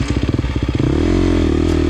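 A 2023 KTM 350 XC-F dirt bike engine at a hare scramble race sputters in a quick run of uneven pops, then dies into a flat, droning tone, all loud and close.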